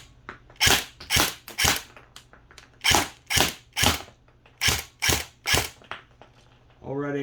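Airsoft M4 rifle, a custom Gundam-style build, fires about eleven single shots on a 2400 battery, each a sharp loud crack in an uneven steady rhythm, with a brief voice at the very end.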